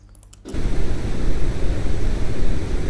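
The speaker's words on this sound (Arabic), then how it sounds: "هذا صوت التشويش" Synthetic noise generated in Adobe Audition: a short, quieter tonal hum opens, then a loud, steady broadband hiss with a rumbling low end fills the rest, with no voices.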